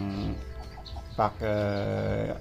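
Domestic ducks kept on a farm beside bamboo clumps, heard as several close, nasal calls in quick bursts, with the last call longer and sustained, over a steady farmyard background.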